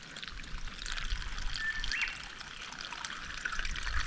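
Water from a tank pours into a 1 litre bottle during a hike, a steady close trickling splash running throughout, with a faint bird call.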